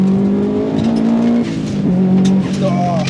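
A Bugeye Subaru WRX STi rally car's engine revs hard and roars close by on a road, pitch rising and falling through gear changes, with a brief tire squeal and a voice talking over it.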